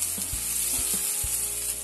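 Grated potatoes and chilli fry in a pan for a market-style Mughlai paratha, a steady close sizzle broken by four soft, regular knocks of a spatula as the mix is stirred.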